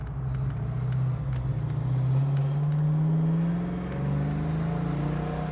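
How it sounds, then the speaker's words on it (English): A 1988 Ford Mustang 5.0 V8 convertible revs and pulls under acceleration, a deep, steady exhaust rumble whose pitch rises smoothly, loud and close with no voices. "Listen to that thing. That's the signature 5-liter sound."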